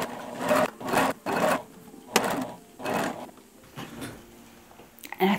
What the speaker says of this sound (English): So I'll go ahead and do another top stitching line 1/8 of an inch from the last.